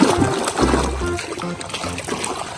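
Water runs and splashes over a plastic toy gun being rinsed clean, a close, bubbling trickle with uneven sloshing bursts and a few hollow knocks.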